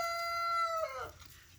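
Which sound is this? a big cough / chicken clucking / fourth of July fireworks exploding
chicken clucking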